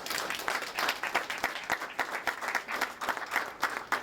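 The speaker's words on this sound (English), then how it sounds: "give them a round of applause for sure." Sustained audience applause at a Veterans Day ceremony: many hands clapping at a fairly quiet, even level, with no voices over it.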